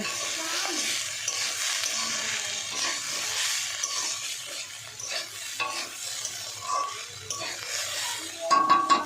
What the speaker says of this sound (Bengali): এবার একটু রান্না করে নিলাম, একটু ভেজে নেব।